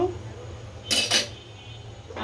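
A metal wok is set down on a kitchen stove with two short clanking contacts close by, then a faint scrape, amid quiet room noise.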